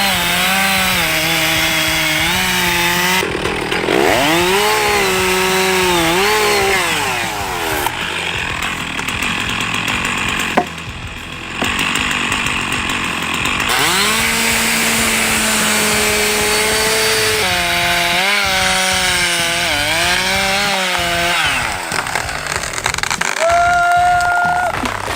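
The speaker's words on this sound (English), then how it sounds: "The roar of the chainsaw, each sharp cut cuts through the hard wood, and when the oak tree falls, it is a finished work." A chainsaw roars loudly and continuously as it cuts through hard oak tree wood, its pitch rising and dipping with each cut and briefly dropping out midway before resuming at full power.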